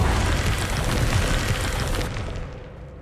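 An Incendio fire spell cast in Hogwarts Legacy, a loud broad whooshing roar of flame that holds for about two seconds and then fades away.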